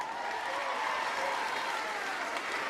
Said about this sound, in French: Je vous demande d'applaudir très fort Leili Anbar